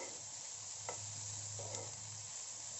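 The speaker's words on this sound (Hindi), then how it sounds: "थोड़ी देर इन सब्जियों को पका लेंगे, ज़्यादा नहीं पकाना है।" Vegetables with spices and chili cooking in a pan for street-style veg masala Maggi, a soft steady sizzle with a low hum and two brief stirring scrapes.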